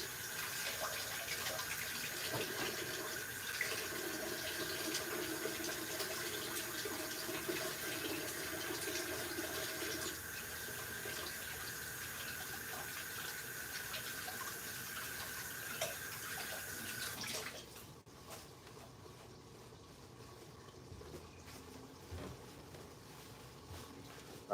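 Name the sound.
running tap water, washing butter off hands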